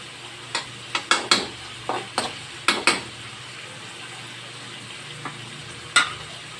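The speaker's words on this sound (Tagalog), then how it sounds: "niluluto kong mabuti yung panggisa para lumabas yung sariling katas" Tomato and aromatics sauté in a pan while a utensil stirs and presses them, sharp metallic clinks and scrapes against the pan popping out over a low, steady sizzle.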